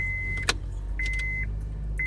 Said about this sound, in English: Alright, so, start my car up.